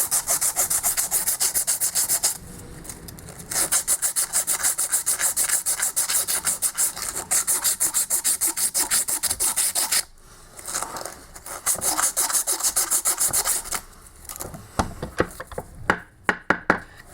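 Fine sandpaper scrubs rapidly and steadily against the commutator of a Denso starter motor armature held in a vise, a close, loud rasping that continues in bursts with brief pauses and ends in a few scattered knocks and taps.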